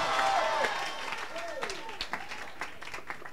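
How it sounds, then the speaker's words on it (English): A church congregation claps and shouts during a prophetic sermon, with loud cheering voices at first, then scattered claps and calls fading under ongoing crowd noise. "Come on, clap and shout, yes."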